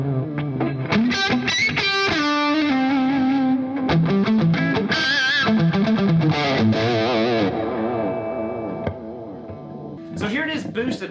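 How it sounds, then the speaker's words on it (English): Heavily distorted electric guitar through a vintage one-channel distortion amp, loud chords and riffs with sustained, crunchy overdrive, ending in a few short choppy strums. "it's a 1-channel distortion rock machine amp"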